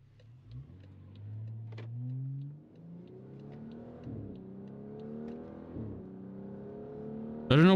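A 400 hp BMW 535i F10 with a Remus exhaust accelerates at full throttle, the engine note climbing steadily through several gears with brief dips at each shift, heard from inside the cabin, with a louder burst at the end.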